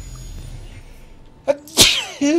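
A character in the video game Assassin's Creed Syndicate lets out a single loud sneeze, with a sharp inhale and a short vocal tail, clear and close against quiet game ambience.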